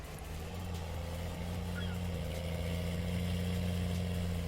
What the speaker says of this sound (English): This is a lovely tractor, this one.